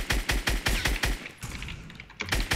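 Automatic rifle gunfire in the video game Fortnite. A rapid, rhythmic burst of loud shots plays first, then a brief lull, then a few more shots, with no talk.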